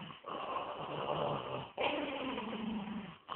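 A Yorkie growls at bedtime in two low, rumbling stretches with a short pause between, close and fairly quiet, with no talking over it.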